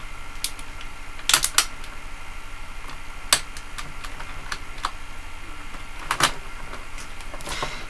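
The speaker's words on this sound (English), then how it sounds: "these fingernail clippers will make it so much faster" Fingernail clippers snipping into a plastic Lady Deadpool action figure give a few sharp, close clicks spaced apart against a faint background hiss, with no talking.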